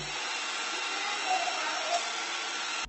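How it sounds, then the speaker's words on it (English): iRobot robot vacuum cleaner running in a living room, a continuous even broadband whir held steady throughout at moderate level. "the iRobot vacuum was on, and it was on in the living room"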